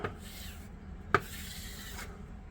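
Filler is spread and feathered across a repaired camper floor with a few quiet scraping strokes and a brief sharp tap partway through. It is close and fairly soft.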